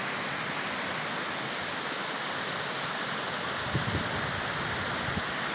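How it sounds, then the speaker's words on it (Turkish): A waterfall fed by Taurus mountain springs roars as a dense, steady wash of rushing water, loud and continuous, with a few brief low thumps near the end. "Şelalemiz tamamıyla burada. Bu suların tamamı hemen arkamızda bulunan toroslardan çıkıyor."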